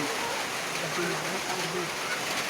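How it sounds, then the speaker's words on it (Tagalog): Afternoon rain falling steadily as a continuous broadband hiss, with a person talking over it throughout. "Ayan guys, hapon na pero umuulan"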